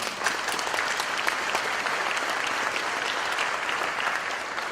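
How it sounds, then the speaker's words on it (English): Sustained applause from a gala audience, a dense even wash of many hands clapping steadily throughout, loud and close with no break or talk over it. "please help me in applauding them"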